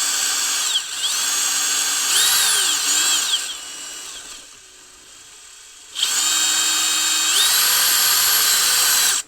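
Power drill boring through plastic near a bolt on a 2015 vehicle's crankcase ventilation setup: high whining bursts that rise in pitch, a short pause, then another long steady run, loud and close.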